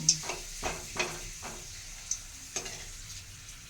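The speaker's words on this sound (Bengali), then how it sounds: "সব রকম মেলানোই পাঁপড় ভাজছি" Papad pieces frying in a pan, a soft steady sizzle with a few faint scraping stir strokes; quiet and close, with no voices.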